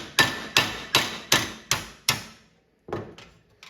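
A hammer strikes a bowed arcade cabinet frame six times in an even, steady rhythm, each blow loud and close with a short ringing decay. After a brief pause, two softer taps follow.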